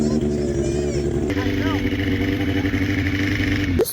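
A motorcycle fitted with a new exhaust runs with a loud, rumbling engine note that holds steady, briefly shifts pitch partway through, and cuts off abruptly at the end.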